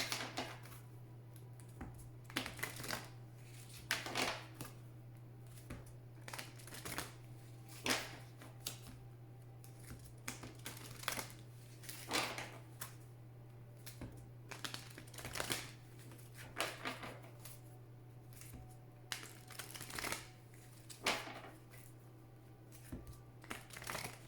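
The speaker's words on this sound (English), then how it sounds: "Please think of your question as I shuffle the cards." Oracle cards being shuffled by hand, a series of soft papery riffles and slaps in uneven bursts over a steady low hum, fairly quiet and close.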